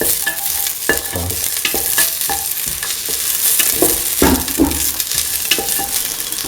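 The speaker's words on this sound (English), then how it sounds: "sauteing the ginger and the garlic along with the onion." Ginger, garlic and onion sauteing in a pan, with a loud continuous sizzle and busy, irregular scraping and clacking from a utensil stirring the pieces.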